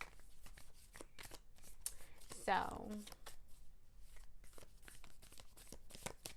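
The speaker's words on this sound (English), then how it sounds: "I am shuffling right now, guys." Tarot cards being shuffled in quick repeated riffles and taps, with a brief louder burst midway and a voice speaking softly underneath.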